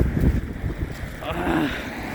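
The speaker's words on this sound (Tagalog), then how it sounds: "Dumadapya yung hangin sa mukha ko." Steady cold wind at minus 19 degrees in Seoul, South Korea, rushing and buffeting against a microphone, a low continuous roar with gusts throughout.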